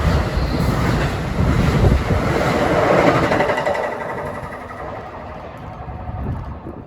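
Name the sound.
Amtrak train 82 to New York picking up speed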